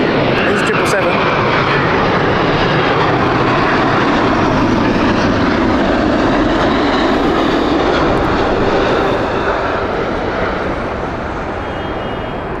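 A British Airways Boeing 777 bound for Johannesburg roars loudly and steadily at Heathrow, a broad jet rumble that fills the whole stretch and eases slightly toward the end, with a voice talking over it.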